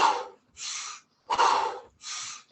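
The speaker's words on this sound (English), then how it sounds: "inhale through the nose, exhale through the mouth" Audible breaths during a Kundalini yoga kriya: four forceful breaths through the nose and mouth alternate in a steady rhythm, each a close, airy rush separated by brief pauses.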